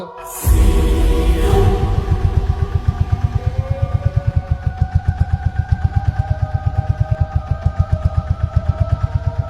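A boat engine starts with a rough burst, then settles into a loud, fast, regular chugging idle close by, with steady mechanical pulsing throughout.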